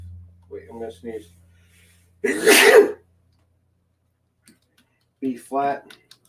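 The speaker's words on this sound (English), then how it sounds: "Wait, I'm gonna sneeze." A single loud sneeze bursts out after a few quiet spoken words, followed by silence and then a short voiced sound.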